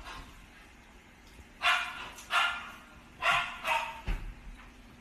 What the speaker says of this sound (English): They're gonna keep barking because you keep giving them food.